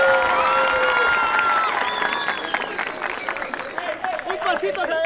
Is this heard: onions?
no